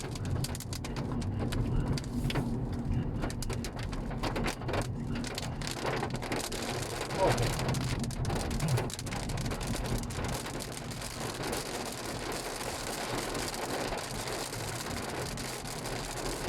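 Rain beginning to fall on a car during a test drive of a D-segment sedan with a 1.5 turbo engine, a steady patter on the body with faint traffic and a distant rumble, and no talking.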